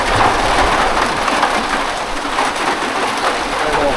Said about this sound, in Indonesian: Nah, akhirnya hujan turun. Hujan turun nih.